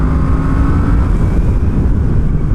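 A Yamaha FZ-10 (MT-10) motorcycle engine roars loud and close with a deep, rough, continuous growl as it accelerates, with no talking.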